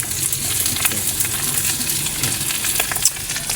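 Dried fish (daing) sizzles and crackles steadily in a hot pan of oil, a loud, dense fry with sharp pops scattered throughout and no voices.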